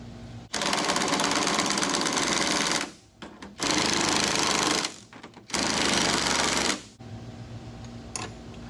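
An impact wrench runs on new nuts with neoprene washers on the fuel cell of a 1975 Bob Trostle super modified race car, in three loud sustained bursts of about two to three seconds each, separated by short pauses.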